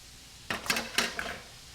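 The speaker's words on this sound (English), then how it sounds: "I put my potatoes in" Potatoes dropped into a pot in a home kitchen, giving three or four quick soft clunks and clatters close by in the space of a second, then quiet.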